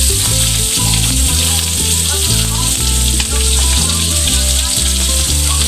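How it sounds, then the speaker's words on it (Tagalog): Onions sautéing in hot oil in a pan for a home-cooked vegetable dish, giving a loud, steady sizzle and crackle that runs continuously without a break, with no talking heard. "dahil lumabas yung mantika niya, ayan, igigisa na natin"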